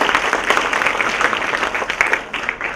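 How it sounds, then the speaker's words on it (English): A convention audience at a Toastmasters event claps loudly in dense, sustained applause for the earlier speakers, the burst of clapping tapering slightly at the end. "give all the speakers who went earlier today a huge round of applause"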